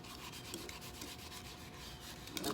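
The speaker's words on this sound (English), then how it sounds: "So just scrub all of the loose stuff off." Loose rust being scrubbed off a cast iron pan, a steady, close rasping rub that carries on without a break and stays fairly quiet.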